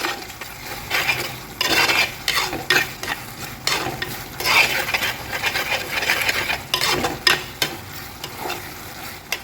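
Repeated scraping and clinking as ginger-tamarind puli inji with fenugreek powder is stirred in a sizzling pan, an uneven rhythm of strokes continuing throughout, close and fairly loud.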